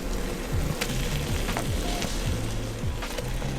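Ground turkey and ground pork frying in a soup pot, giving a dense, continuous close sizzle with faint crackles and an occasional soft scrape throughout.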